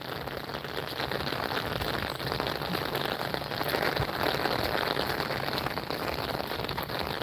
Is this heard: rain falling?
yes